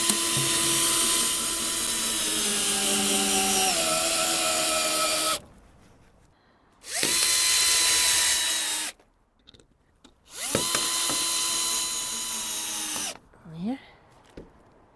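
A power drill drives hex-head coach screws through polycarbonate sheeting outdoors in a garden, with three long, loud whirring bursts separated by short pauses, then a brief final burst.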